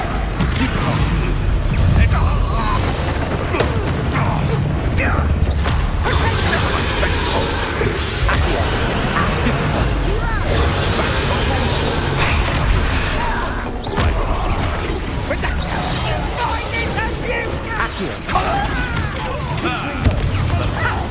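Confringo fire-blast spells boom and crash in rapid succession during a Hogwarts Legacy duel, a dense, loud barrage of explosions and impacts layered with a voice and game sound throughout.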